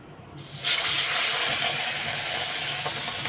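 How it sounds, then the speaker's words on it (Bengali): Pieces of rohu fish going into hot oil in a home kitchen for a Bengali fish curry: a sudden loud, broad hiss of frying that starts and keeps sizzling steadily. "তেলটা গরম হয়ে গেছে এখন আমি সব মাছগুলো দিয়ে দেবো এক এক করে"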